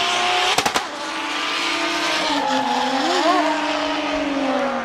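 A professional drift car at a drift competition, its engine droning and rising in pitch as tires squeal, with a few sharp pops near the start.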